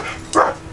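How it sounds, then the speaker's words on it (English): A single short dog bark rings out, moderately loud against a quiet background. "The dogs are barking at something out there."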